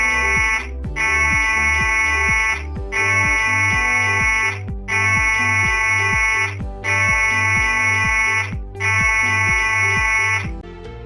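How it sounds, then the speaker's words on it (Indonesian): A ship's emergency alarm on a passenger ferry sounds six long, loud blasts, each a steady electronic buzzing tone separated by short gaps. "jika Anda mendengar bunyi alarm panjang 6 kali"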